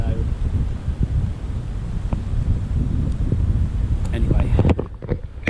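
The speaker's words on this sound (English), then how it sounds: "Oh, and a mega headwind" Strong headwind buffets the microphone while cycling on a hilly moorland ride near Widecombe, a steady loud rumbling roar filling the whole clip with brief gusty flutters toward the end.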